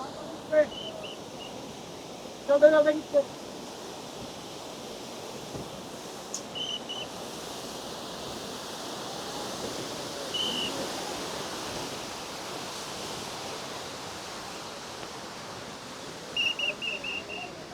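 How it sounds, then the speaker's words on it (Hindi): A large mountain waterfall on the Amarnath Yatra route gives a steady, broad rushing roar that continues without a break, with a few short voices and clatters passing on top. "काफ़ी बड़ा झरना था मेरे पीछे ये"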